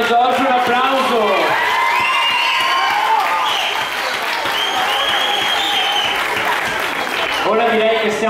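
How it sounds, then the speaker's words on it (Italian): A crowd applauds loudly and continuously, with scattered cheers and whoops over the clapping, at the Sagra del Rosario festival show in Martellago, Italy. "Grazie Don Giorgio, un applauso."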